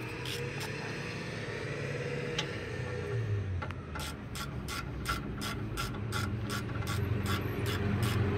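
A hand ratchet tightens the rear caliper bracket bolts on a 2000 Ford Expedition, clicking in a quick steady series of close strokes over a constant low background hum.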